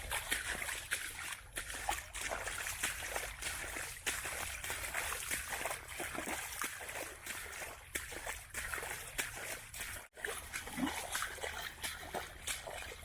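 Footsteps wade through flooded ground on Florida's Ocean to Lake Trail, throwing up a continuous run of close, even splashes that break off for a moment before resuming.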